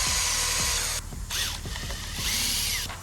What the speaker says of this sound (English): the last hole we got to drill is this one on the side here